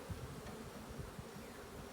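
Honeybees buzz in a nuc hive, a faint, continuous low hum heard up close, with no talk over it.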